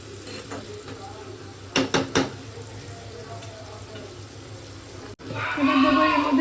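Tomatoes with salt cooking in a pan for a chana dal dish, a soft sizzle with a few sharp scraping stirs, then a louder burst of frying near the end; a voice speaks faintly underneath.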